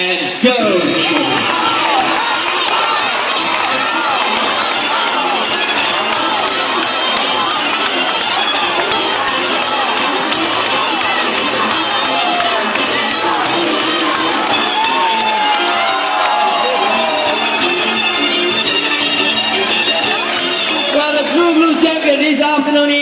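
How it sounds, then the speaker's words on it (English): A spectator crowd at a bird show in Jurong Bird Park, Singapore, cheers and shouts loudly and continuously, children's voices and whoops mixed into a thick roar with a presenter's voice carried over it. "Corky supporters, I think you need to cheer louder for the birds."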